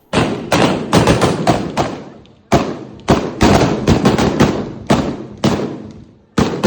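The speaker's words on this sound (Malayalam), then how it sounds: "ഇനി വെടിക്കെട്ട് ഒന്ന് കണ്ടു നോക്കൂ." Temple fireworks explode at Guruvayur in a rapid series of loud, booming blasts, each with a sharp attack and a rumbling decay, arriving in irregular bursts with brief gaps between clusters.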